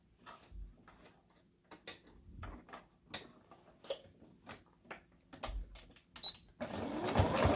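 Sewing machine stitching elastic onto a pleated fabric face mask, heard as short, close bursts of mechanical clatter separated by pauses, with a louder, denser run of stitching at the end.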